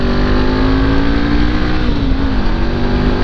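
Motorcycle engine droning steadily while riding along Route 16 on a cross-country trip, the bike working hard to hold momentum; a constant close, loud hum with a sustained low tone and no speech.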